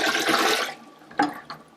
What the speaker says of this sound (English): It flushes.